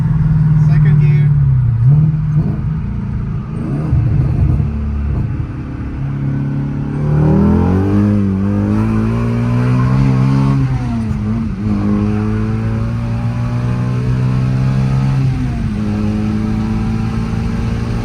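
A Shelby GT350 fitted with a PMAS intake accelerates hard in second gear, its engine note climbing steadily in pitch with a rising harmonic sweep, loud and close, while people talk over the roar.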